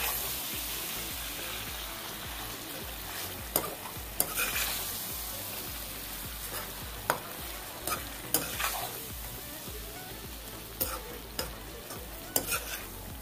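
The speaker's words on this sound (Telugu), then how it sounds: "ఈ పేస్ట్ అంటే ఈ రొయ్యలకు పట్టుకునే విధంగా మనం కలుపుకుంటాం." Prawns and spice paste being stirred together in a pan for a prawn fry: irregular spoon scrapes and clacks over a soft, continuous sizzle, with no talking.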